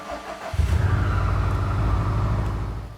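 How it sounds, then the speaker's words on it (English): A 2018 Subaru STI cranks briefly and then fires up, the engine catching with a loud burst before settling into a throaty, steady idle, heard up close without talking. "we first must start the car"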